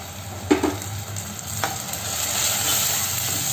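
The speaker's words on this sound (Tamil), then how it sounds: "கொஞ்சம் பச்சை வாசம் போகிற வரைக்கும் ஃப்ரை பண்ணிக்கலாம்." A ground green masala paste for green chicken fries in a pan after the onions have been sautéed, a steady close sizzle with a couple of sharp stirring scrapes near the start.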